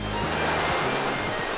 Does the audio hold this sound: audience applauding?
no